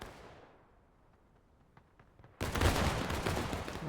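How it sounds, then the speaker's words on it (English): A volley of musket fire in a Civil War video game set around the Tennessee River: a faint fading tail and distant pops, then a sudden loud, dense burst of many simultaneous shots that keeps rumbling. "looks like they're just taking a volley"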